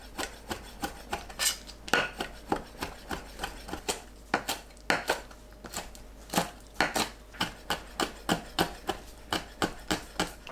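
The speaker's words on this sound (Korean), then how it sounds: "오징어를 작게 썰어주세요" Squid being chopped into small pieces with a knife on a board, a fast, steady run of sharp, close knocks, some in quick pairs, continuing throughout with no talking.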